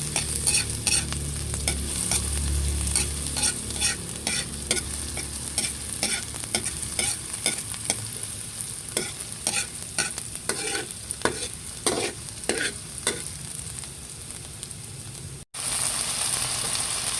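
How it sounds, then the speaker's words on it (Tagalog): Garlic and onion sauté in a pan, a loud, continuous sizzle broken by repeated stirring and scraping strokes for many seconds, with no talking. "Akin na pong igigisa yung bawang at sibuyas."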